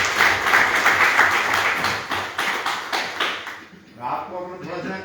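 Audience clapping for a Pandey-ji at a gathering in Meerut, Uttar Pradesh, a dense burst of hand claps that fades out after about four seconds, with voices talking beneath.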